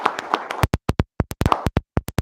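Sparse, sharp hand claps from an audience applauding Math Field Day winners, fairly close and irregular, following a brief moment of talk.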